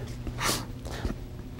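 A short nasal sniff, then a second quicker sniffle, close by and fairly quiet over a faint steady background hum.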